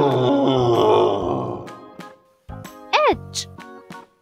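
A cartoon gorilla in a children's animal alphabet lesson gives a run of deep, rough grunts, followed by a short pause and a few higher, brighter cries over light music.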